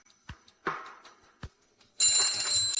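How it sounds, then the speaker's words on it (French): A few faint clicks and knocks, then an alarm clock bursts into loud, continuous bright ringing that fills the rest of the moment. "Jette enfin ce foutu réveil."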